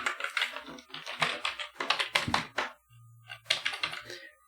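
Quick keystrokes on a computer keyboard clatter in dense bursts while a project file is renamed, followed by a short pause with a faint hum and a few final taps, close and fairly loud with no speech.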